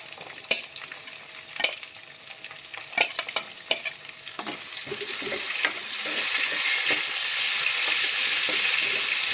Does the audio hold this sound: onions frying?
yes